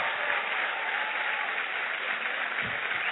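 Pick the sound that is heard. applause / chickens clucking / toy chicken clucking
applause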